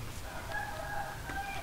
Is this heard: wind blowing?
no